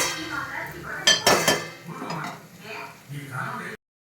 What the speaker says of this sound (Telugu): ఆ టర్మరిక్ అనేది దానికి పట్టాలి కాబట్టి మనం తిప్పాలి